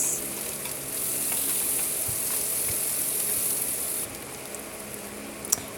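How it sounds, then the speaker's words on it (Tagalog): Onion sautés in oil left over from frying tofu, giving a loud, steady sizzle with stirring scrapes throughout and a brief clink near the end. "Dito sa pinagprituhan natin ng tokwa, dito ko kinisa ang sibuyas"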